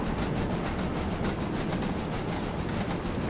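A train passes in the Train Simulator 2015 game, giving a continuous rumbling roll with rhythmic clatter. It is steady and fairly loud with no talk over it.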